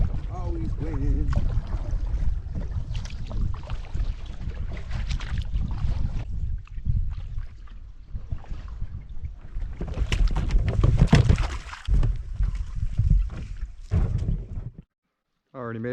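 Wind buffets the microphone in a steady, rumbling roar while a canoe is paddled on a Killarney trip, with a voice speaking over the gusts.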